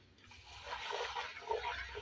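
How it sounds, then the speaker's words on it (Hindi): Water is poured into a pan of mixed pulses cooking with red masala, giving a soft splashing, trickling sound for about two seconds, fairly quiet and close, with no talk. "हल्का सा पानी शामिल करेंगे।"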